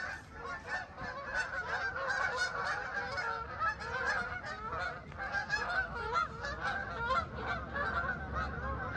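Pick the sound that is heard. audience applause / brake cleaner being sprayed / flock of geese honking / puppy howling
flock of geese honking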